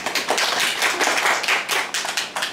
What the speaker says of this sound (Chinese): 现在我们用热烈掌声欢迎江一帆。